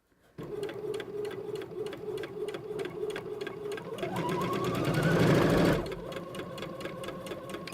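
A sewing machine stitches a garment sleeve in a quick, even mechanical chatter that speeds up and grows louder briefly before settling back to a steady pace, close and alone.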